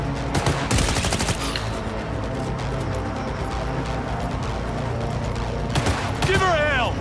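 Police officers in Cyberpunk 2077 open fire in a dense fusillade of rapid gunshots and automatic bursts, loud and sustained throughout, with shouting voices mixed in among the firefight.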